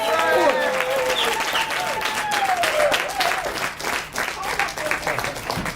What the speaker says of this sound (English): Without further ado, put your hands together.